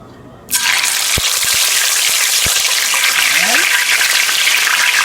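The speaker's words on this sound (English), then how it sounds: "So I'm going to start frying them here." A loud burst of sizzling starts suddenly as chicken wings hit hot oil, then a steady crackling fry continues with a few light clinks.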